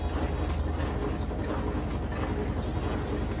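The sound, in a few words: washing machine spinning at full speed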